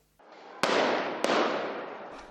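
Gunshots ring out on the streets of Harare as the army disperses protesters, two sharp loud cracks about half a second apart with a long echoing wash after each.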